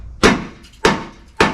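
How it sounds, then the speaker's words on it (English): A hammer strikes the bumper brackets around the horns of a 1979 Z28 Camaro three times, at roughly even intervals. The blows are loud, sharp metallic impacts, each ringing briefly before it fades, and no one talks. "All I'm doing is just hammering where the bumper brackets go around the horns."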